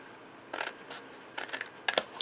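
Scissors snip tabs out of a small paper craft box, a handful of short, crisp cuts in separate bursts, close and fairly quiet with no talking.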